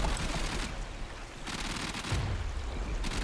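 Rapid bursts of gunfire in the shooter game Warframe, loud bursts of automatic fire coming in clustered volleys with brief lulls between them, over a rumbling, wash-like background.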